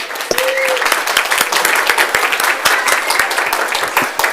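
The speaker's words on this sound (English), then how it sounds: "I can't let anybody go unless we give a round of applause to our moderator" An audience at a council member candidate forum claps for the moderator, loud and close, with a steady dense patter and a brief whoop or vocal cry near the start.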